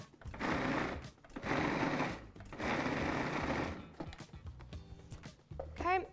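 A blender purees roasted butternut squash in bursts, three loud whirring runs with short pauses between, then quieter rattling and a short clatter as the machine slows and stops.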